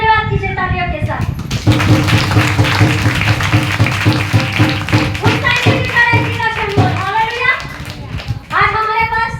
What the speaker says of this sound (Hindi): प्रभु का धन्यवाद कीजिए तालियों के साथ।